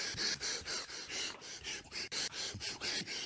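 Heavy, rhythmic breathing of a masked killer in the horror film My Bloody Valentine, a loud, steady cycle of harsh inhales and exhales heard close up through the mask.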